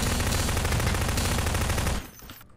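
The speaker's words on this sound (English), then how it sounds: "I can't hear you over my gunshot." Rapid, dense gunfire in the video game Half-Life 2: Deathmatch roars continuously for about two seconds, loud and close, then cuts off abruptly into a quieter tail.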